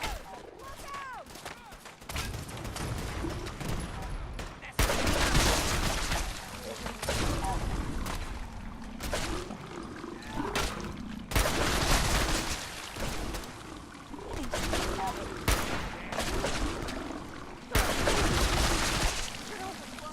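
Repeated gunfire bursts and heavy shooting from Fallout 4 rattle on and off across the clip, loud and close, with shouted in-game voices over the firefight.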